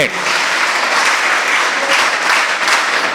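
Steady, dense applause from an audience at a live talk, clapping for cricketer Rishabh Pant; the clapping runs continuously for about three seconds with no voice over it.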